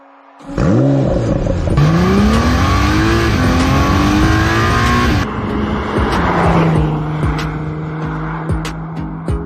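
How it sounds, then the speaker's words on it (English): Honda NSX sports car fires up and pulls away, the engine rising through loud revving gear sweeps, then dropping to a steady cruising drone; close and dominant throughout. "I think it's about time we hit that starter button and went and chased some tarmac."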